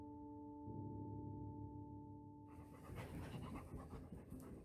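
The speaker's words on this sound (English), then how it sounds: "A cute dog." A dog pants in home footage, a quick rhythmic huffing that starts partway through over a steady electronic hum, close and moderately loud.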